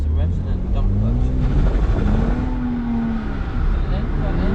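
A BMW E46 revs hard as the clutch is dumped for a drift, the engine note sweeping up and down loudly and steadily throughout, close by, with voices talking over it.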